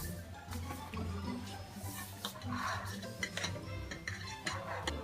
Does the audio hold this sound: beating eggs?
yes